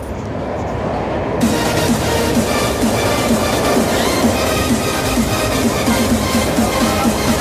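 Superfast train running through Peddampet station without stopping, heard from on board as a loud steady rumble with rhythmic clickety-clack of wheels over rail joints, close and continuous.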